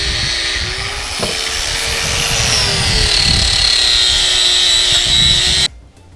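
A power tool polishing a cooking pan, a loud steady whirring grind with slowly shifting pitch that cuts off sharply near the end.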